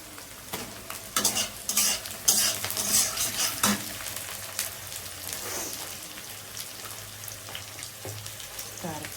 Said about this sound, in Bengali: পেঁয়াজটা ভাজা হয়ে এসছে